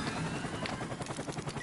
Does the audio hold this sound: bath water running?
no